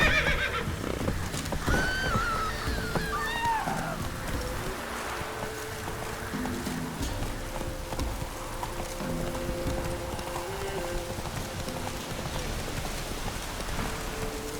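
Roach the horse from The Witcher 3 whinnies near the start, then hooves clip-clop steadily under falling rain, with game music in the background and no talk.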